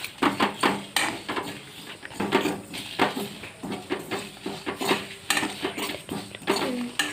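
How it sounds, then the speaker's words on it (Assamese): A spatula scrapes and clanks repeatedly against a hot kadai as chilli pickle spices are stirred, producing steady rhythmic metallic scraping and knocks that continue close up, with no talk. "এনেকৈ লৰাই থাকিব 5 মিনিট সময়।"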